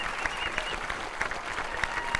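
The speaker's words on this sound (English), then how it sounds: "Uli Fritz applauds" A crowd applauds the podium trophy presentation after a DTM race at Hockenheim, with steady clapping and cheering mixed with outdoor noise at moderate distance.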